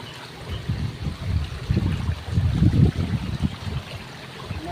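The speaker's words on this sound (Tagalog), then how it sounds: "Ayun, lakas ng tubig oh." Strong stream of water rushing and gurgling close by, a steady churning flow that swells louder through the middle, with no talk over it.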